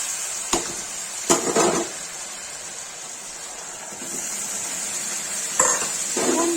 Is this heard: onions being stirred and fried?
yes